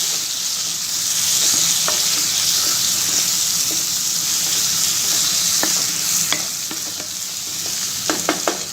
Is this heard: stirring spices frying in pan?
yes